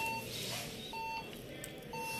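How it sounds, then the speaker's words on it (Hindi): An HP 800 G1 ProDesk desktop computer with no display repeats short electronic error beeps, faint and spaced about a second apart over a low background hum. "सेम कंडीशन है, उसी तरह बीप दे रहा है।"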